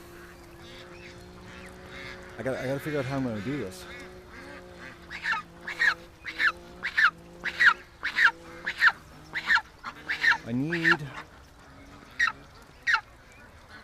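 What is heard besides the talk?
goose honking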